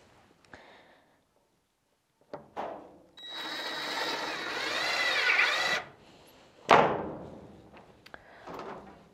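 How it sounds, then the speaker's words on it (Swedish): A power drill drives a small mounting screw with two washers as spacers into a nest box for an egg-laying mobile coop. It whirs close and loud for about two seconds between brief clicks and a knock. "det är att helt enkelt bara skruva fast en liten montageskruv med två brickor som distans"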